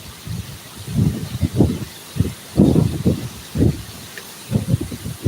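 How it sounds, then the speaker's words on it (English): Strong outdoor wind gusts whip branches around near someone cutting rock, coming as repeated loud rushing, rustling bursts with brief lulls between them. "that wind is kicking"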